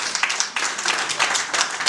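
An audience at a 2018 investors' conference claps in a brief burst of applause, many hands together, fairly close and lively.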